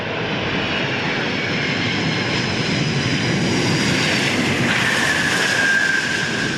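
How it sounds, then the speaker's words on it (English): The six-engine Antonov An-225 cargo plane landing at Perth International Airport, a loud continuous jet roar with a rising whine near the end, with no talking. "this is the first time the Antonov has landed in Australia"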